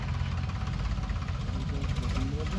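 A farm tractor engine running nearby in a Punjab field, a steady low rumbling throb that holds even and continuous throughout.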